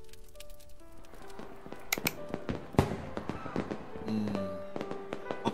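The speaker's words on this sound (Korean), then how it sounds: "바깥에서 불꽃놀이를 하는구나." Fireworks going off outside in a year-end video game, heard as a scatter of sharp pops and crackles with a few louder bangs, set among game music tones and sound effects.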